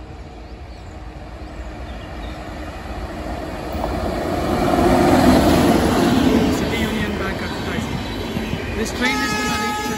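Indian express passenger train passing, a broad rumbling roar that swells mid-clip with short horn toots near the end, while a person talks over it.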